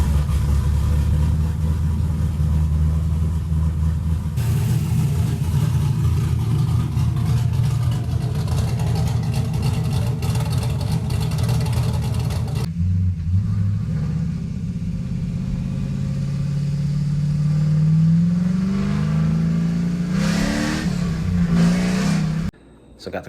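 A twin turbo LSX V8 in a Nissan 240SX build starts and runs, with a loud steady rumble at first, then a lower idle broken by a few rising revs near the end.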